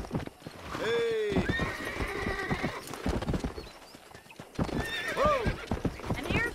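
Rhythmic hoof clip-clops with a horse whinnying near the start and again later, in a lively outdoor setting in the video game Red Dead Redemption.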